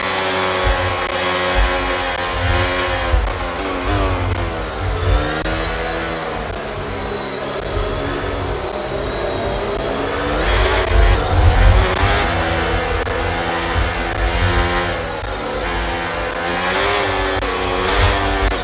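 Simulated McLaren F1 race car engine revving at a circuit in Australia in a racing video game, a loud, continuous high-pitched whine with rising and falling RPM sweeps, with no talk.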